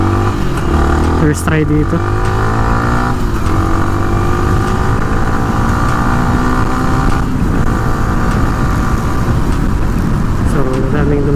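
A Yamaha Sniper 155 motorcycle with a 14-43 sprocket combination rides at speed, its engine whine climbing steadily and staying loud throughout while someone talks over it.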